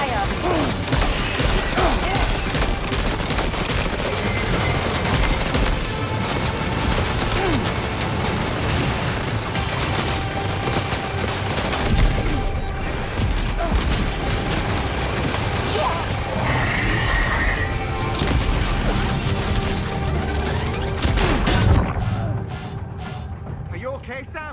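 Gunfire in the video game Death Stranding 2: loud, dense rapid bursts and impacts layered with game music and voices, continuing for most of the clip before thinning out at the end.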